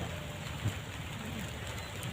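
Soft, steady patter of rain falling outdoors, a faint even hiss with a small thump partway through and no talking.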